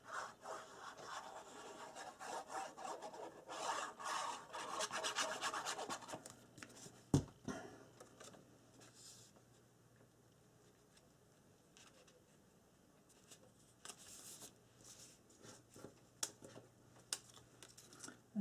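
Paper being trimmed for a handmade 5x7 mini album, giving soft scraping and rubbing strokes in bursts, with one sharp knock partway through and quieter rustling afterward, close and without talk.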